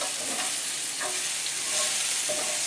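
Pork loin chops sizzle steadily in a hot pan while being stirred, a constant bright frying hiss with soft occasional scrapes and clicks, close and fairly quiet, with no talking.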